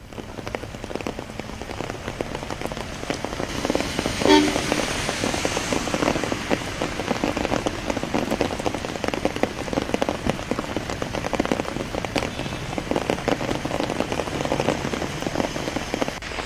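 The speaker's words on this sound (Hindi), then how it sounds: "देश की राजधानी दिल्ली में आज सुबह से हो रही झमाझम बारिश ने मौसम तो सुहाना कर दिया है" Heavy rain pours down in Delhi, a dense continuous patter of drops drumming on surfaces, steady and close throughout.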